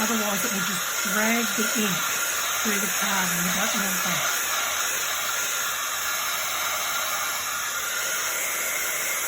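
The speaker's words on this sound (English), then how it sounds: "So I'm just going to use the heat gun" A heat gun roars steadily as a broadband hiss, drying stamped ink on card, with a person talking over it for the first few seconds before the blower runs alone.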